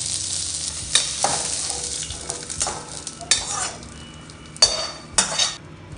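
Curry leaves crackle in hot oil for a tempering, with sharp bursts of spitting sizzle at irregular moments over a quieter hiss, plus light scrapes and taps of a spoon against the pan.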